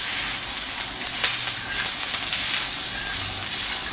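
Onion frying in hot oil for a thali meal, a continuous close hiss and sizzle with faint crackles, steady throughout and with no talking.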